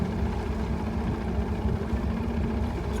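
A bass boat's engine idles on Arkabutla Lake, a continuous low rumble with a dense, even throb, fairly close and without speech.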